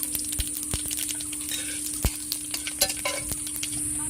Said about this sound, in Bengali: তেল গরম হয়ে গেছে ফোড়নে আমি দিয়ে দিচ্ছি দুটো শুকনো লঙ্কা আর দুটো তেজপাতা